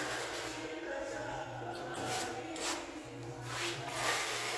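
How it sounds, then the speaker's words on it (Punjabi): Floor tiles being set and levelled, with close, repeated scraping and rubbing on tile surfaces in an uneven rhythm, a low hum running underneath. "ਬਸ ਟੈਲਿਆਂ ਦੀ ਸੈਟਿੰਗ ਹੋਣ ਲੱਗੀ ਹੋਈ ਆ"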